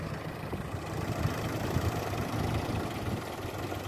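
A 30-year-old tractor engine hauls a trolley loaded with about 90 quintals of soil, its steady low diesel chug holding a continuous even drone at moderate loudness throughout, with no talking.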